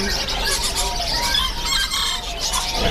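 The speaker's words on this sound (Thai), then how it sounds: "อันนี้ก็เป็นไก่แจ้ซาลามอนเหมือนกันนะครับ" A group of Salmon bantam chickens clucks and squawks busily nearby, their calls overlapping in a loud, continuous chorus with no talking.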